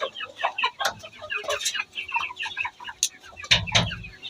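Indian and Australian breed chickens cluck on a farm, with many overlapping clucks and short calls from nearby birds and a brief louder burst near the end.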